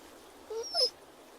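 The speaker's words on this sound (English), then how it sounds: "Dog's pretty chill around a gunshot." A dog in The Walking Dead: The Final Season video game gives a brief soft whimper, two short whiny notes over quiet background.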